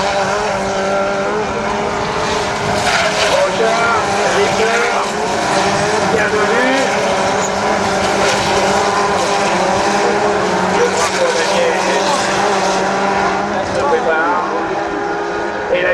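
A rallycross race car takes the joker lap at the 2013 Lessay event, its engine roaring and revving loudly and continuously while a commentator talks over it.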